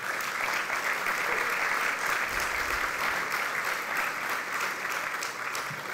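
A large audience at a political party gathering applauds steadily, a dense, continuous wash of clapping that stays at an even level throughout.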